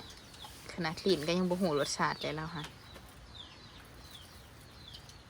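A chicken clucks faintly in a rural setting, a few soft, scattered calls following a woman's speech.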